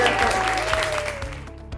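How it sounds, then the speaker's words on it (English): Applause and cheering from a crowd greet a student signing a lacrosse scholarship to Reinhardt University, a brief, steady burst of clapping that fades slightly toward the end. "Everybody make some noise for Shelby O'Neill."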